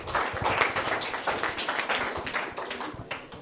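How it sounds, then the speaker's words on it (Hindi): Children in a Class 8 school quiz applaud a correct answer with a burst of steady, dense clapping that stays fairly loud and close throughout, without speech. "जोरदार तालियां।"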